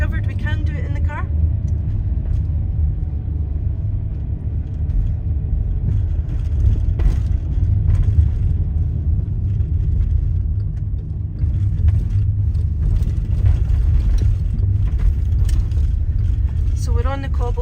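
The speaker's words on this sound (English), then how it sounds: "So we're on the cobbles just now, so that's why it's kind of bumpy" Car driving over cobblestones in Stirling's old town, Scotland, giving a continuous loud low rumble and bumpy road noise from inside the cabin, with a few brief voices over it.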